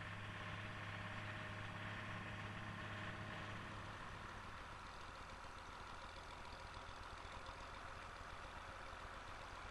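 A 1004 tractor loads a trailer from a rotting heap of sugar beet, its engine running steadily at close range, with a deep idling drone that shifts to a rougher, busier working note partway through.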